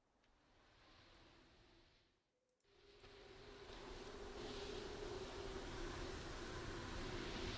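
Wind in the Anchorhead interactive fiction game, a soft steady rushing gust that dips to near silence briefly, then swells back louder and fuller, blowing continuously to the end.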